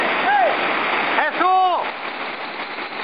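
A waterfall roars steadily while canyoning at Bras Rouge on La Réunion. The broad rushing wash is heard close up, and a voice briefly shouts over it.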